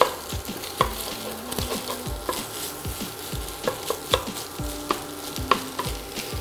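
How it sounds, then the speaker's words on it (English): Mild Italian sausage browns in an oiled skillet with a steady close sizzle, broken by repeated sharp scrapes and clicks of stirring. "we're gonna take 1 pound of mild Italian sausage, and we're just gonna brown this up in the skillet."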